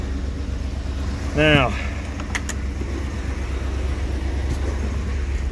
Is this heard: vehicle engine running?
yes